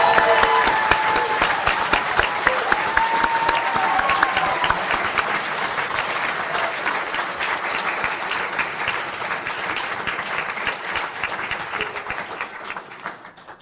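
A large audience at a university conferring ceremony applauds a graduating Higher Diploma in Science and Software Development class, with dense sustained clapping that stays loud for most of the span before tapering off at the end.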